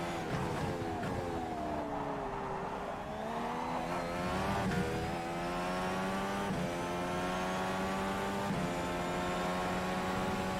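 Indy car engine in the rFactor 2 racing game at Sebring, revving steadily with rising and falling pitch as it shifts through gears, loud and continuous throughout.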